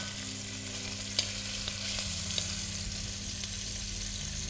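Beef chunks brown in a hot pan on every side for tacos, producing a continuous even sizzle at moderate level with a couple of faint clicks over a low steady hum.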